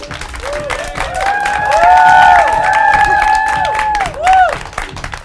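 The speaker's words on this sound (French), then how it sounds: "Veuillez les applaudir encore une fois." Audience cheering and applause for a hip-hop dance troupe, with rising and falling whoops and shouts over a steady wash of clapping that swells and then fades.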